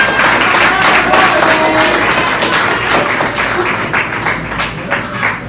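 Crowd applause and cheering for women fighters after a close bout at an amateur boxing event in Mexico City, a steady, loud wash of clapping filling the whole moment with scattered taps.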